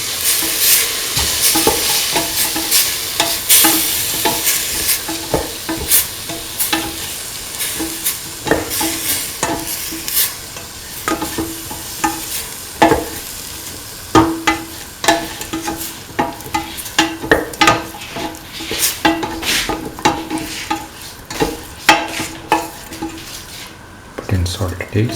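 A spoon stirs beef and green peas in coconut milk stew in a pan, scraping and clinking against the metal in irregular bursts over a soft, steady sizzle.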